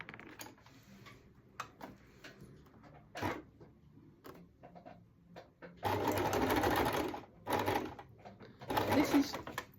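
A sewing machine stitches a quilt: short bursts of mechanical whirring and ticking at first, then longer, louder runs of steady close-up stitching near the end, with a voice speaking between runs.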